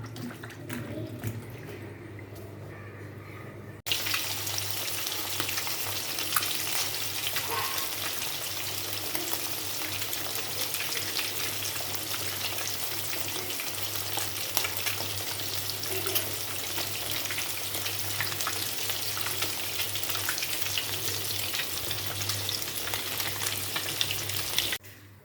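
Potatoes and drumsticks fry in oil tempered with cumin seeds. After a few quiet seconds a loud, steady, dense sizzle starts suddenly and runs on without pause, close by.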